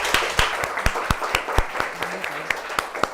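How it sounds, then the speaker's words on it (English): A small audience at a live spoken-word event gives a round of applause, with sparse, distinct claps in an uneven rhythm heard up close and moderately loud for about three seconds. "And Yeah, another round of applause for Asha."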